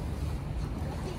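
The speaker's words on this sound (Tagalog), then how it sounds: "Mahina pa yan. Hangin lang." Steady low wind rumble buffeting the microphone by the sea in Sheung Wan, Hong Kong, with a faint wash of water in the background and no talking.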